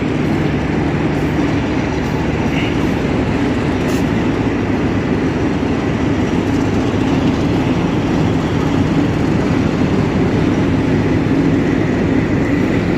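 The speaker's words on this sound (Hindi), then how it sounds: "ये एक डब्बा पे जा रहा है देख सकते हैं ट्रेन" A train rolls through Lahore Railway Station as a steady, loud rumble of rail cars fills the whole stretch, with no clear breaks or pauses.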